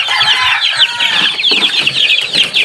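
A flock of chickens in a backyard breeding pen clucks and chatters continuously and fairly close.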